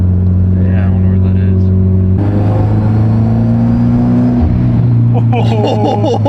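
Car engine with an exhaust manifold leak, a loud steady idle rumble that rises into a rev partway through with a raspy edge, close to the microphone.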